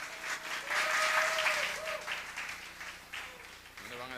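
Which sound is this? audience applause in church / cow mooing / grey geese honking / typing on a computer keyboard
audience applause in church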